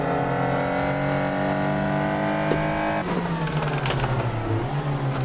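A race car engine in the Assetto Corsa racing game drones loudly and steadily at a high pitch, then drops in pitch as the car shifts gear, and its tone wavers as the car slides.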